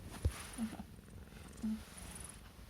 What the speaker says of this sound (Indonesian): Setiap kali mau bobo dia pasti mendengkur.